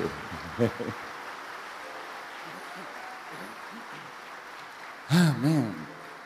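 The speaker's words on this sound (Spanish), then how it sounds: "juntos les vamos a dar un aplauso de bienvenida a todos los que vienen de afuera" Church congregation giving a welcome round of applause to visitors, a soft, even wash of clapping heard from a distance, with a voice speaking briefly just before it and again as it fades.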